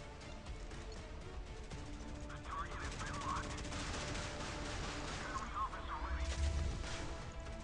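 Warship cannons firing in the naval combat video game Modern Warships, a dense run of rapid, overlapping gunfire and explosive bursts throughout, faint and distant in the mix, with someone talking over the battle.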